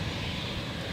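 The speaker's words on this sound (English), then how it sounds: "Got the Alliance here on its way to Darwin, the E190." An Alliance Embraer E190 airliner at Adelaide Airport, its engines a steady, distant broadband rumble heard briefly.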